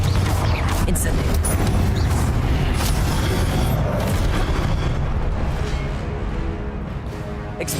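Incendio fire spell blasts in Hogwarts Legacy, a sustained roaring, booming rumble of spell effects and combat noise that stays loud and dense throughout, tapering slightly at the end.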